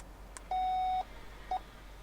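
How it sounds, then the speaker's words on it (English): Programming beep from a Ford Transit while a new key is paired: one long electronic tone of about half a second, then a brief second chirp, both clear over quiet background. "We heard one beep."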